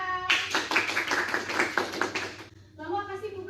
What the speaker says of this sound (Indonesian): Tepuk tangan untuk Sarah.